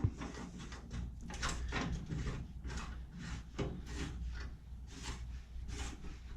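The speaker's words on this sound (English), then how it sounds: "Now we take the knob and we just start tightening everything all up" A plastic knob being screwed down onto the deck of a 2003 Murray Select riding mower, repeated rubbing, scraping turns in a quiet close setting.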